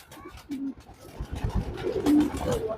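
A visiting pigeon in a home loft gives a couple of short, low coos close by, one early and a louder one near the end, over quiet background rustling.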